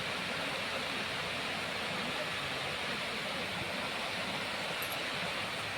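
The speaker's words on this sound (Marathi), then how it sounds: "मस्त पाण्याचा आवाज बिवाज येतोय" A village river flowing near Satara, heard as a steady, full rush of water that stays even and unbroken throughout, fairly close and with no voices over it.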